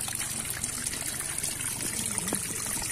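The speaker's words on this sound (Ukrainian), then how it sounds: "Просто безліч таких невеличких, чистих, прозорих, дзюркотливих струмочків." Small, clear babbling mountain streams in Zakarpattia, Ukraine: a steady, close trickle and gurgle of running water, continuous and fairly loud, with no voices.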